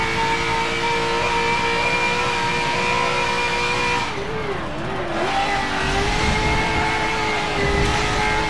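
Race car engine in Forza Motorsport 7 roars and revs steadily with a sustained, loud drone, dipping briefly in pitch mid-clip before climbing again.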